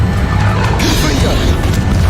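A Confringo spell blast impact in the Hogwarts Legacy video game, a loud, dense crashing burst filling the short clip with heavy low rumble.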